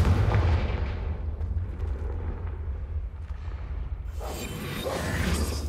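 A Confringo blasting spell goes off in Hogwarts Legacy, a loud booming, rumbling blast that fades into a lower roar before a fresh whooshing burst rises near the end.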